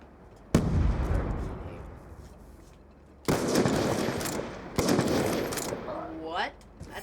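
Bursts of gunfire from the video game Black Ops 2, a sharp shot near the start and two heavy rattling volleys later, loud and close, with a voice talking over parts of it.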